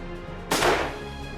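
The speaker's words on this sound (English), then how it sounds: "That's a powerful gun." A single loud gunshot from a powerful gun fired at a controlled shooting range, a sharp broadband crack followed by a short decaying tail, with no voices.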